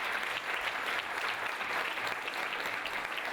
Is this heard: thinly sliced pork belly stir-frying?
no